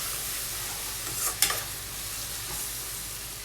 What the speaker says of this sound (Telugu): గార్లిక్ పేస్ట్ పచ్చివాసన పోయేంత వరకు ఫ్రై చేసుకోవాలండి.